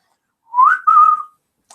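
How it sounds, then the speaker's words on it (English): A person whistles two sustained notes close up, a short rising tone and then a longer, steadier one, with silence around them during a light-hearted morning joke segment. "She doesn't like whistling."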